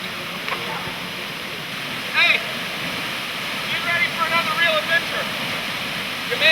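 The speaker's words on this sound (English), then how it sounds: "This is Boma Falls, this is the lower falls." Lower tier of Boma Falls, a waterfall in Fiji, roaring in a steady broadband rush close by, with faint voices and brief splashy bursts rising over the constant water noise.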